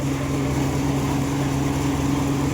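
A Shri Ghanshyam thresher works through green groundnuts. Its motor gives a steady, humming drone with a constant pitch across the whole short stretch, with no talk.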